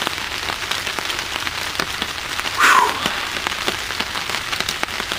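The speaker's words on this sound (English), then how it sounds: "Man, pouring rain." Pouring rain drums steadily on surfaces around a bushcraft camp on a cold night near freezing, a constant dense hiss of drops with a brief louder splash partway through.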